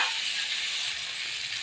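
Potatoes and squash sizzle as they fry in a pan for a fish curry, a short, even hiss of frying that stays close and steady without any talk over it.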